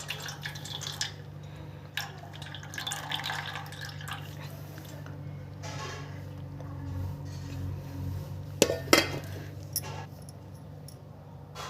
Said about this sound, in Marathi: आता आपण याला चाळणीमध्ये टाकून याचं पाणी पूर्ण काढून घेऊया